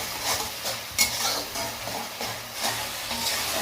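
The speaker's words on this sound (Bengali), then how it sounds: "এর মধ্যে লবণ, পরিমাণ মতন হলুদ গুঁড়ো দিয়ে আমরা মশলাটাকে সুন্দর করে কষিয়ে নেব।" Spice paste with salt and turmeric fries in a pan, a soft continuous sizzle under rhythmic stirring scrapes and occasional utensil knocks, heard close up with no talking.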